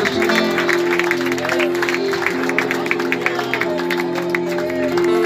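Congregation clapping steadily at a youth worship vigil in a church, a dense continuous wash of hands over sustained music, with some voices in the crowd.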